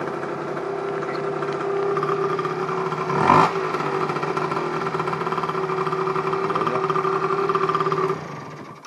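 A Yamaha TZR moped with an AM6 engine starts with a brief sharp burst and then runs at a steady droning idle, close and fairly loud, before cutting off near the end.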